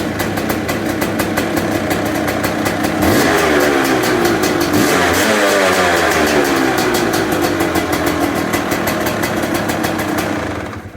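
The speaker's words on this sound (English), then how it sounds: "Definitely like that two-stroke sound." A Hengjian S7 Z300 two-stroke engine runs close and loud, idling with a raspy crackle, then revving up and dropping back in a few rising and falling sweeps before settling to idle again.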